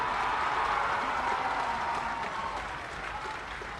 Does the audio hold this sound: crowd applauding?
yes